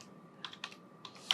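Quick bursts of typing on a computer keyboard, a few clustered keystrokes with short pauses between them, close and soft with no voice.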